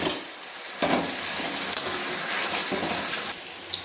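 Raw garlic and potatoes sizzle in hot spiced oil for a mutton curry, a steady loud frying hiss broken by stirring scrapes, with no voice over it.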